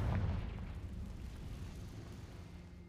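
A Confringo spell blast in a Harry Potter video game, a low rumbling boom that hits at once and then decays slowly into a long, faint roar.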